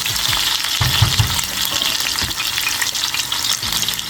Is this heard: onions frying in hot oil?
yes